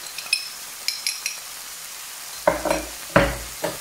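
Onions cooking with turmeric and ground coriander for a Moroccan salmon and shrimp pastilla chermoula, stirred in a pan, with scattered spoon scrapes and short sizzling bursts, closer and louder near the end.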